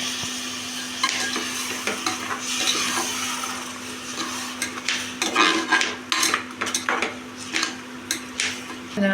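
Rice stirred into spice powder sizzling in oil in a pan, with repeated metal spoon scrapes and clinks against the pot over a soft fry, close and uneven.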